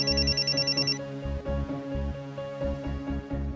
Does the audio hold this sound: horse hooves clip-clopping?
no